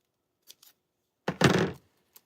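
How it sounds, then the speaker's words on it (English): A sheet of craft paper is cut in half with scissors while making paper flowers: a few faint snips, then one longer rasping cut through the paper, then a last small click, close and alone with no talk. "I'm going to take this, I'm going to cut this in half."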